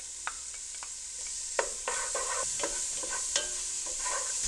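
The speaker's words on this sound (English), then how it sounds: "So we're gonna throw in the the red bell peppers." Minced garlic and red bell peppers sizzle steadily in a hot pan, with a constant frying hiss broken by scattered scraping stirs from a utensil.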